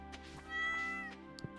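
Cat in the Stardew Valley video game giving one drawn-out, tonal meow, fairly quiet and clean, with no talk over it.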